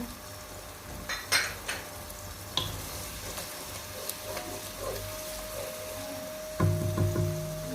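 Onions and garlic sizzle softly in a pot for Saudi kabsa, a low steady fry with occasional stirring clinks and scrapes, and a brighter hiss swelling near the end.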